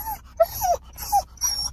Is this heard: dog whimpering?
yes